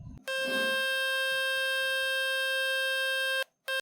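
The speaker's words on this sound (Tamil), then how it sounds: "உங்கள் மொபைல் ஃபோனில் உங்களுக்கு ஒரு வைப்ரேஷனான சவுண்ட் ரொம்பவே ஹெவியாக கேட்கும்." A phone speaker plays a loud, heavy buzzing tone meant to shake dust out of the speaker. The harsh, vibrating note holds steady for about three seconds and then cuts off, followed by a brief second burst.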